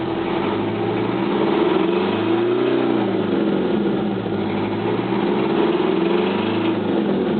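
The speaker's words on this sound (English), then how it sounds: "The motor is running. It is a Detroit Diesel" A 1972 fire truck's Detroit Diesel 871 engine runs steadily at idle, a deep, loud throbbing drone with slow rising and falling pitch, heard close with no voices.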